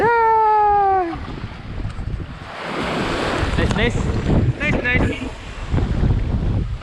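Strong wind rushing over steady surf and waves on the shore at Porbandar, Gujarat, with a short tonal cry at the start and faint voices in the noise.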